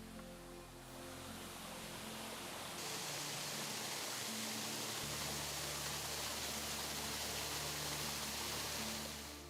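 Woods Brothers Falls, a 33-foot Ozark waterfall, roars as a dense, steady wash of falling water, close and continuous with no voices over it.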